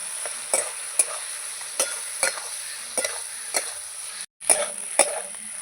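Spice paste and potatoes being stirred and fried in a pan for a spicy live-crab curry, with a soft steady sizzle broken by repeated scraping stir strokes roughly every half second, close and moderately loud, no talking.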